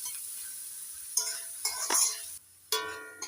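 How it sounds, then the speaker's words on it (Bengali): Two finely chopped large onions fry in a pan, with a steady close sizzle broken by bursts of stirring and scraping and a brief pause. "এবার পেঁয়াজটা লালচে করে ভেজে নেব।"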